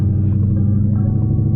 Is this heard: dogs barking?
no